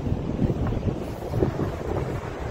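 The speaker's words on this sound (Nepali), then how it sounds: "जति बिचमा त्यति शीतल हावा चलिरहेको" Wind rushes and buffets steadily against the microphone, a constant low roar with no voices.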